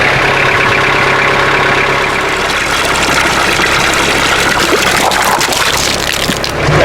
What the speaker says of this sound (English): It's the arrival of the freshwater tractor